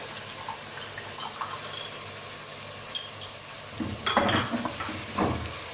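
Tomatoes and yogurt going into beef frying in a pot for yakhni pulao, a soft sizzle and stirring at first, then a louder burst of sizzling and spoon scraping as the wet ingredients hit the hot pan.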